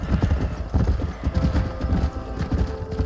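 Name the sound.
horses galloping and neighing in video game Red Dead Redemption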